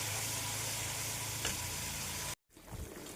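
Spice masala sizzles steadily in a hot pan before potatoes go in, a continuous loud frying hiss that cuts off abruptly near the end and then returns more faintly with soft stirring.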